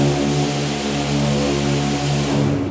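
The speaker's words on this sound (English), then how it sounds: "Again, it's because of the action of the sander." A power sander runs continuously, a loud, steady motor whine with a droning hum that holds level throughout and eases off only at the very end.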